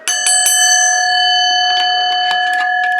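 A robot's hammer drops onto a bell, giving repeated sharp metallic strikes whose clear tones keep ringing and overlap as a sustained, layered chime, loud and close, with no voices.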